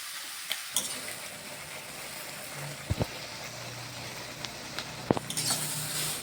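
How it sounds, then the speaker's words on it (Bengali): Carrots with a pinch of salt fry in a little oil in a pan, giving a steady soft sizzle broken by a few sharp clinks and scrapes of stirring. "গাজরটাকে ভালো করে ভেজে নেব।"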